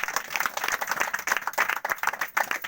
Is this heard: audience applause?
yes